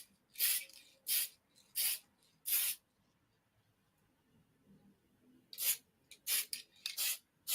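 A spray can puts quick coats on model figures for weathering, giving hissing bursts of roughly half a second each, four in a row, a pause, then several more in quicker succession, close and loud with no talking.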